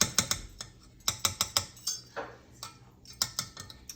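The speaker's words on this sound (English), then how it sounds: "I'm going to go ahead and remove the whisk from this bowl" A whisk lifted out of a bowl of cream cheese for a strawberry Kool-Aid pie, a quick run of close, sharp clicks and taps as metal knocks against the bowl rim, in short bursts with brief pauses.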